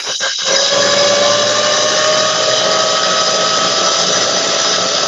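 A power drill spins wire for Clapton and alien vape coils, giving a steady, close, high whine that runs unbroken for several seconds after a couple of brief starts.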